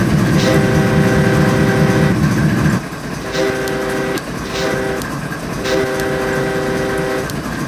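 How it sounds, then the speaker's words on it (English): A deep locomotive horn in Train Simulator 2022, on the Marias Pass route, blares in long sustained chords, stopping and restarting several times over the steady rumble and clatter of a moving locomotive. "we'll see what the horns on these engines sound like."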